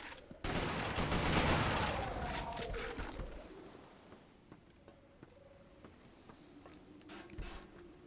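Shotgun fire in the video game Resistance: Fall of Man, a loud burst of blasts followed by fading combat noise, scattered clanks and faint tonal game effects.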